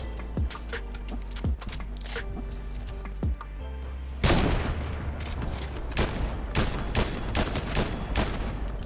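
Rapid gunfire in a Fortnite match, with bursts of sharp shots and impacts crowding the whole stretch, growing denser and louder in the second half.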